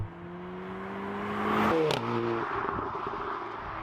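An Audi S3 Sportback engine surges as it kicks down to second gear, with a rising whine that jumps in pitch at the shift and then pulls hard, heard from inside the cabin.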